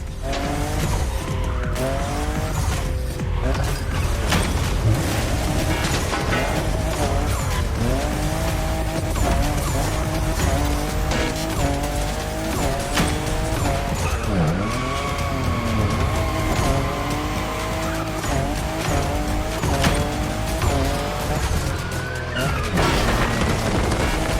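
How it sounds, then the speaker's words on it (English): A Toyota Supra drifting in The Crew Motorfest, its engine wailing and tires squealing loudly through long sustained slides, with rising and falling revs and occasional skid bursts throughout. "my special move, the boogie drift of killing death"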